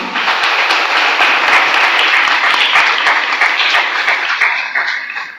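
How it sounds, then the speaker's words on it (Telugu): Congregation in a co-cathedral clapping together for Saint Thomas during a feast novena service, a loud, sustained wash of many hands with no voices, fading slightly toward the end. "పునీత తోమాసు వారికి అందరూ ఒకసారి చప్పట్లు కొట్టండమ్మా"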